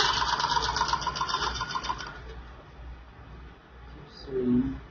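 Sewing machine stitching the lining of an A-line long skirt, a steady fast mechanical chatter for about two seconds that then stops, with faint speech near the end.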